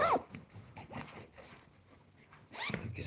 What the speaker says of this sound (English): So many zips.